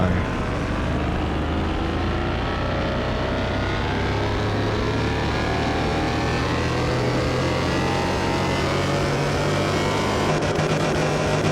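In Car Mechanic Simulator 2021 a car engine runs on a dyno, giving a loud, sustained roar that climbs steadily in pitch as it revs for several seconds with no voices.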